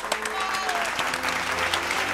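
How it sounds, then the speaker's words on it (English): Dense, close applause from guests at a baby's first birthday party held during quarantine, a steady burst of many hands clapping throughout with a faint voice underneath. "Give Noah a big round of applause."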